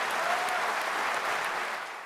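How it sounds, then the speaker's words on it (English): Audience applause after a panel discussion, a steady dense clapping from a crowd that holds evenly and begins to fade at the end. "huge round of applause for this wonderful discussion"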